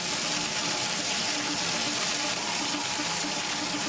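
Water from a fire truck hose pours steadily into a metal bucket, a continuous broad gushing rush with no break and no voices.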